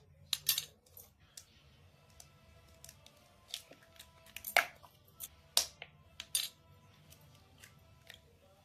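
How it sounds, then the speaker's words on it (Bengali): Eggs cracked against a bowl edge for fruit cake batter, a few sharp close taps and clicks spaced irregularly in a quiet kitchen with no talking. "এবার ডিমগুলো ফাটিয়ে নেব।"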